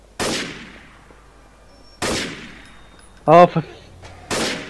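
Gunshots in Garry's Mod Trouble in Terrorist Town, loud single reports spaced about two seconds apart with decaying tails, plus a player's brief exclamation between them.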